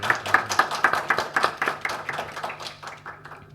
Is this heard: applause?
yes